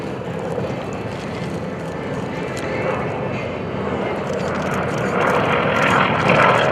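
A WWII warbird propeller aircraft flies at the 2011 Blue Angels Homecoming Airshow, its engine a steady, loud droning roar that builds slightly as it passes, with no break.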